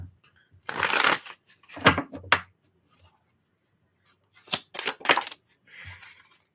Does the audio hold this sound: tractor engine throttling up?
no